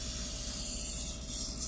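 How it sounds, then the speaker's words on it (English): Silicone spray hisses from a nozzle onto a VFC M249 gas blowback airsoft gun during maintenance, a soft, continuous close spray with no talking. "we recommend using the Puff Dino silicone spray because the nozzle allows you to get into the small gritty areas"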